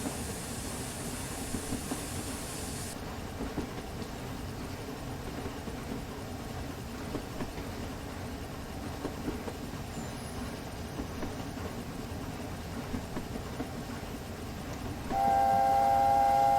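Steam locomotive from an SSS A4 Pacific sound pack in Train Simulator Classic, running with a steady rumbling chuff and rail noise throughout, a brief hiss near the start and a sharper whistle-like tone sounding near the end.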